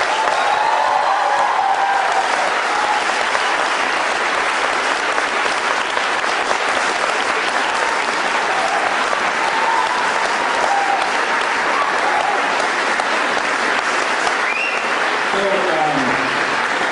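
Sustained, loud applause from a seated audience welcomes a speaker to a debate on God's existence at a Catholic campus center in Lawrence, Kansas. The dense clapping holds steady throughout without letting up.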